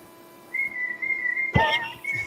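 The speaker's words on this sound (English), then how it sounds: "does she normally call you with a whistle?" A woman whistling to call someone, a sustained clear high whistle tone held, broken, then resumed, with a short burst of louder noise in the middle; fairly near and not under talk.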